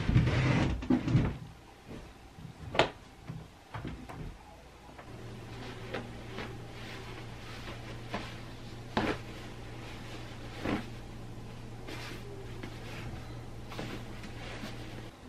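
Dresser drawers in a bedroom being opened and closed, several sharp wooden knocks and slides scattered over the span, with a low steady hum in the background and no talk.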